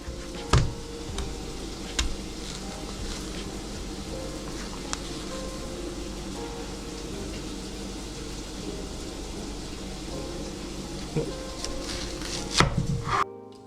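A knife cuts a white onion in half on a board, a few sparse, sharp thuds spread across a quiet room hum, with a cluster of louder knocks near the end.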